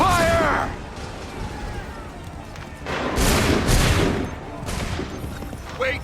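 Musket volleys crack out in Assassin's Creed 3 as a shouted voice rises over the battle; several dense bursts of massed gunfire swell and fade amid the din, with spoken orders around the shots.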